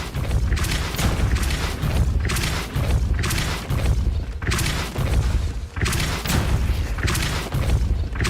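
The Depulso spell in Hogwarts Legacy bursts out as repeated heavy booming blasts, roughly one every second or so, loud and thumping with a rumbling tail, in a steady rhythm.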